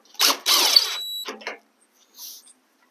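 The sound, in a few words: screw being put back into a Honda Civic fender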